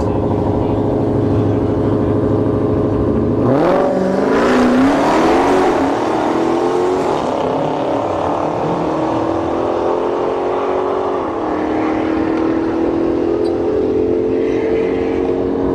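A Dodge Hellcat and a Hyundai Veloster launch side by side on a drag strip, engines roaring loud and close with rising revs and gear changes that fade over many seconds.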